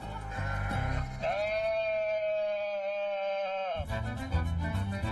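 A sheep at a shepherd school in Provence gives one long, steady, nasal bleat lasting a couple of seconds, clear and close, with shorter rough bleats before and after.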